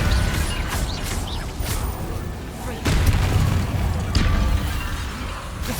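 A Confringo fire spell blasts in Hogwarts Legacy, a deep booming explosion within combat noise, with heavier thumps partway through and again later.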